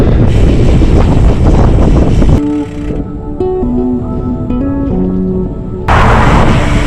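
Strong wind buffets the microphone on an ultra-distance cycling ride along the Connemara coast of the Transatlantic Way. A loud, steady roar fills the first two seconds and returns at the end, with a quieter, calmer stretch in between.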